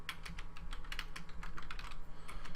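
Quick, steady clicking of a computer keyboard as code is typed, close and faint, with no talking.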